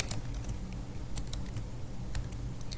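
Typing on a computer keyboard while writing React code: a steady, close run of quick plastic key clicks with uneven rhythm and no voices.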